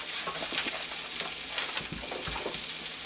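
Sausage frying in a pan for a breakfast plate, giving a steady close-up hiss of sizzling fat with faint crackles and soft pan scrapes.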